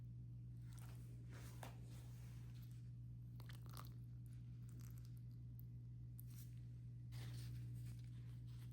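Biscuits being crushed and ground give repeated soft crunching bursts over a steady low hum, irregular and close, with no talk.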